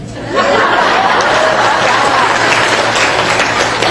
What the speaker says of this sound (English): ladies, clap if you're with me.